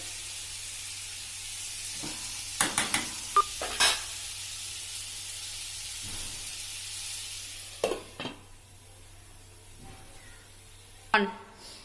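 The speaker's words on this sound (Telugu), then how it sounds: "ఒక 3 మినిట్స్ అట్లా సిమ్లో పెట్టుకొని మనము ఫ్రై చేసుకోవాలి." Potatoes fry gently in a pan over a low flame with a soft, faint sizzle, punctuated by a few sharp utensil knocks and scrapes; the cooking stays quiet throughout without speech.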